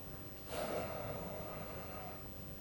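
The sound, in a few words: breathing out during a qigong exercise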